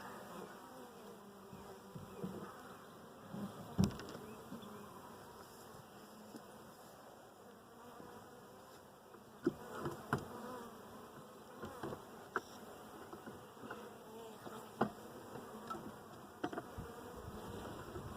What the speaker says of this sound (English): A few bees working this frame, just checking them out.